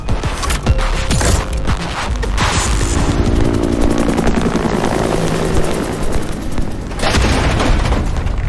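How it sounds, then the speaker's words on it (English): Grenade explosion in a Rainbow Six Siege cinematic, a loud deep boom that sits within a dense, continuous roar of rumbling battle noise and crackling impacts. "Grenade out!"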